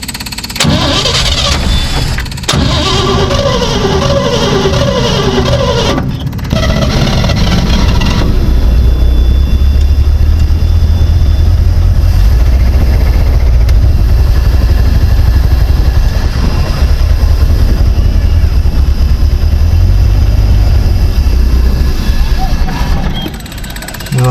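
A 1956 Chevy engine runs steadily and loud after starting, a rough mid-pitched idle carrying on close by for the whole stretch, with a brief sputter early on and no voices over it.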